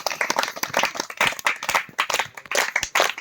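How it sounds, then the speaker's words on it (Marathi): A village audience claps for a centenarian grandmother who serves as the village deputy sarpanch, giving dense, uneven hand claps that fill the moment with no speech over them. "त्याबद्दल आणखी एकदा आपण टाळ्या वाजूया यांच्यासाठी"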